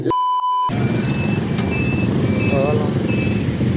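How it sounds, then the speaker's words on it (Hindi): Loud, close street traffic rumbles on a road in Bahawalpur. A steady tone sounds at the start, thin horn-like tones ring out over the engines, and a voice talks briefly near the end. "लेकिन हम फंस गए ट्रैफिक में।"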